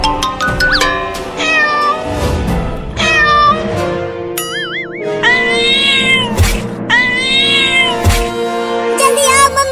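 A cartoon cat meows and yowls loudly in repeated drawn-out cries over background music, with no speech.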